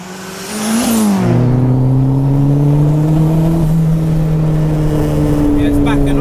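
A 360 bhp turbocharged Mini engine revs hard and sustains a loud, steady drone, then backs off on its own as boost arrives, the pitch sliding and settling, close and continuous throughout.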